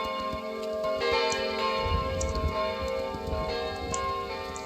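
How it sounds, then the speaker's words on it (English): Bell ringing in the video game Kingdom Two Crowns, sustained tolling tones layered over game music and ambience, with no talking. "Ring the bell."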